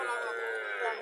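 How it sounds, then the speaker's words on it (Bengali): A cow lows briefly at a busy livestock market in Cumilla, a single close, drawn-out moo over crowd noise. "প্রচুর গরু উঠছে। এখানে আর একটা গরু দেখা যাচ্ছে"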